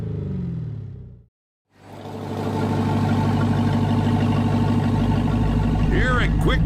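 Loud race-car exhaust from an electronically controlled system on a truck, a heavy rumbling drone that cuts out abruptly, then swells back into a sustained deep roar with rising revs near the end.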